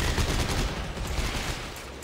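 Rapid gunfire in the co-op video game Dead Space 3, a dense, loud, continuous barrage of shots with no pauses.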